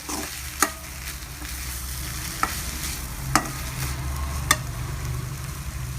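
Pumpkin with ground coconut and cumin sautéing in a pan, a continuous close sizzle broken by several sharp spatula scrapes and taps spaced a second or so apart.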